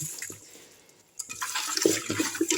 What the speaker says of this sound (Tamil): இப்போ தண்ணி ஊற்றிருக்கோம் மூணாவது தண்ணி ஊற்றிருக்கோம்